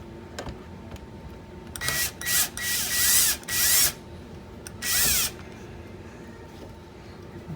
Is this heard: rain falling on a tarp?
no